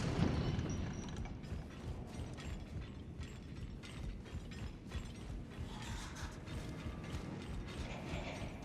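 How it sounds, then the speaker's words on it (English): Elevator mechanism in Elden Ring: Shadow of the Erdtree grinding and clanking steadily as it moves, a dense continuous mechanical rumble with ratcheting gear clicks throughout, fairly close and alone. "go ahead and go up one of these elevators"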